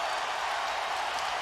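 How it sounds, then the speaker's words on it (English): Crowd at a Texas vs Kansas college basketball game in the Kansas arena, a dense, sustained roar of cheering heard as a continuous wash with no individual voices standing out. "listen to this elevation of the crowd"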